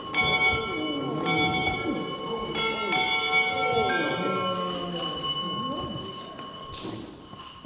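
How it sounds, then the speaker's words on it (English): A bell rings several times at uneven intervals. Each strike leaves long, overlapping metallic tones hanging, with a fainter rumbling background beneath. "fire a missile at the bell to ring right through the halls of hell"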